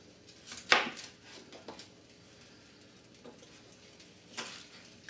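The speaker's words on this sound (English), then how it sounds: "Cut that up kind of large." Knife chopping pepper and onion on a board, a few sharp isolated cuts with quiet pauses between them, close and fairly faint.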